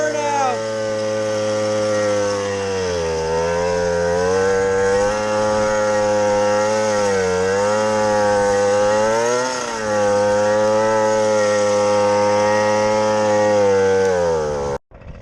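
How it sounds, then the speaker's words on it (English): A pit bike revs hard through a sustained burnout, its engine note rising and falling in continuous close, loud waves before cutting off abruptly at the end. "Pit bike burnout."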